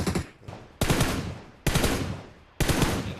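Automatic gunfire in a PUBG-style battle royale shooter rattles out in three loud sustained bursts separated by short gaps, sharp and close with a decaying tail after each burst.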